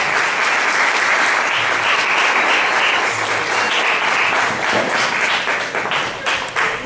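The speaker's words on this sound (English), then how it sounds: "Y'all give her a hand clap." An audience at a Walk to End Cancer event breaks into loud, sustained applause, dense clapping that holds steady for several seconds before thinning slightly at the end.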